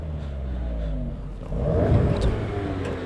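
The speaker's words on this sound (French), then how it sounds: "Donc là, Rémi est au volant pour nous montrer le son de l'échappement." Cupra Formentor VZ exhaust in comfort mode, a steady low rumble that swells slightly as the engine revs up partway through, heard from nearby without talk.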